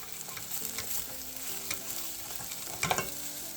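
Green onion stalks fry in a pan while being stirred, a soft close sizzle with repeated scraping strokes and a sharper clatter near the end, no talking.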